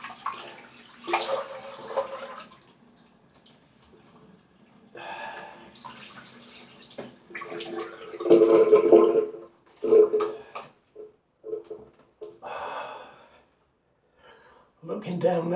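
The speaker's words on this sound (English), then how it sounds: "Just drain in the sink, guys." Water runs and drains in a bathroom sink after shaving with a glycerin shaving soap, coming in intermittent splashy bursts while someone talks over it.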